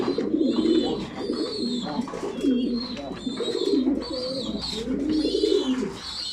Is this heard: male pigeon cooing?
yes